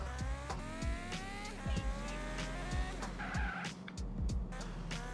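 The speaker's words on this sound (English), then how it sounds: "this is a modified sounds for the bike, not the original one from San Andreas" Modified motorbike engine sound in GTA San Andreas (GTA United DYOM mod), a loud continuous revving whine with rising pitch sweeps, gear changes and tire skids, heard alone without talk.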